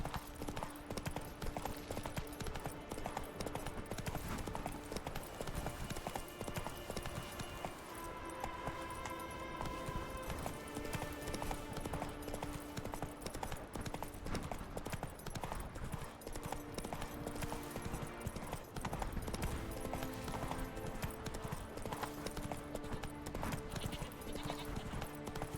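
Roach, Geralt's horse in The Witcher 3: Wild Hunt, gallops in a steady clip-clop of hooves under the game's music, with a brief whinny.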